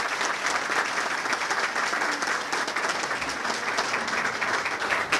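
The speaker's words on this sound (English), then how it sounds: "Maybe a quick round of applause for them would be in order." Audience at a city State of the City breakfast event applauds the breakfast caterer, a sustained, even round of crowd clapping heard alone, filling the whole stretch at steady loudness.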